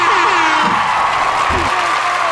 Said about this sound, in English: Let me give you some hand claps for that.